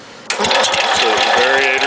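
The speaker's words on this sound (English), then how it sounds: "crank the engine over several times" A John Deere 110 round-fender lawn tractor's small engine is cranked over by the starter, which kicks in abruptly and grinds on with a rapid, rhythmic churning that does not catch, loud and close.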